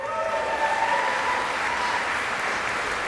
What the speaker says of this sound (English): That was a lovely cheer